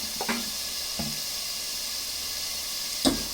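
Fish curry masala with turmeric fries in oil, a steady soft sizzle running throughout with a few brief knocks of a stirring spoon against the pan, the last one louder near the end.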